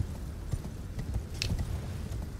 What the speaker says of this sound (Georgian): და ჩემი ცხენი.